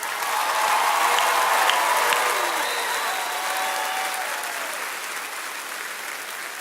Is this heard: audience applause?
yes